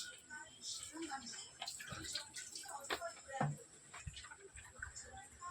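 Water filling a container through a cloth tied over its mouth, heard as faint trickling and splashing with scattered drips, soft and close.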